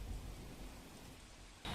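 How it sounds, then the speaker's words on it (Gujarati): Steady rainfall in Naranpura, Ahmedabad hisses continuously for a short stretch, a dense even wash of drops nearby, ending in a brief louder burst. "નારણપુરા વિસ્તારમાં હું હાલ ઉપસ્થિત છું અને અહીં વરસાદ પડી રહ્યો છે"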